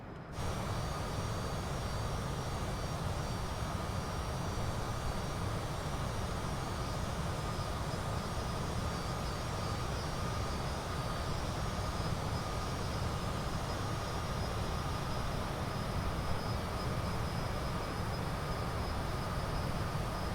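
Steady, loud cabin drone of a Cessna Citation CJ4 business jet climbing out in windy, partly cloudy conditions in Microsoft Flight Simulator 2020, a continuous broadband engine roar holding even throughout with no talking.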